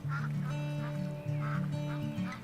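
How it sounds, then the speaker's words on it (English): Mallard ducks quack repeatedly outdoors in Scotland in a rhythmic series of nasal honking calls, fairly close and alone, with no talk. "the mallard is a much maligned and overlooked duck"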